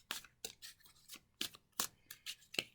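Tarot cards being shuffled by hand, a series of crisp papery riffles and snaps in an uneven rhythm, about eight sharp bursts, close and fairly quiet with no talk.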